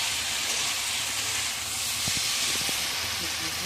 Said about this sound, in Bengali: আমরা এখানে পরিমাণ মতো জল দিয়ে দিচ্ছি গ্রেভির জন্যে